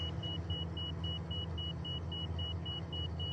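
A flaps-down warning in a Pilatus PC-21 cockpit in Microsoft Flight Simulator 2020 beeps in a steady, evenly spaced train of short high tones over a constant low engine rumble.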